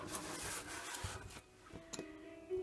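Scissors or an X-Acto knife cut the corners of paper for a hardcover notepad holder, with soft close snips and rubbing scrapes in brief separate bursts, quiet and with no talking.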